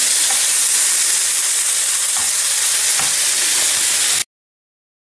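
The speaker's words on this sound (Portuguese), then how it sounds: "Vamos deixar agora a fritar." Beef steaks sizzle loudly and steadily in a frying pan, a dense continuous hiss with faint pops, ending abruptly.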